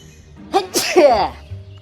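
A single sharp sneeze from a female teacher character in the horror game Scary Teacher 3D, a breathy burst with a quick intake, then quiet room tone.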